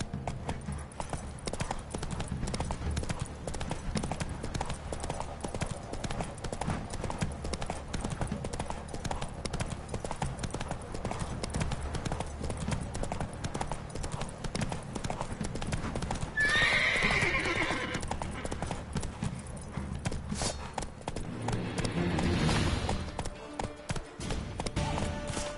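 Hooves clip-clop steadily as a horse runs in The Witcher 3 video game, a whinnying neigh rising partway through and another near the end, over continuous game ambience.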